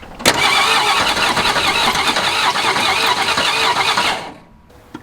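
A 1961 Ford Falcon engine that sat abandoned and left to rot cranks loudly and fires roughly on only a couple of cylinders for about four seconds, then cuts out, leaving near silence.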